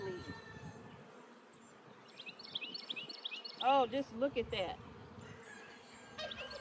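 Honeybees buzz steadily across a hive frame as it is lifted slowly from the box, a soft continuous drone close by, while people talk over it throughout.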